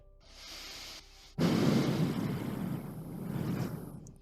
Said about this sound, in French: La bouteille est soumise à un vent violent.